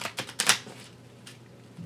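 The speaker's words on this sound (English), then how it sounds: "I have been practicing shuffling cards" A deck of playing cards being shuffled, a few quick crisp riffling bursts close by, then a quieter fading patter and a brief rustle at the end.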